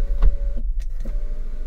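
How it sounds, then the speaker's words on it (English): A powered slide-and-tilt sunroof on a 2019 Buick Encore hums as its motor runs, a steady close whir with a few faint clicks lasting under two seconds. "a full powered slide and tilt sunroof with the controls located right here"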